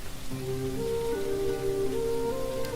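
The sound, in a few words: rain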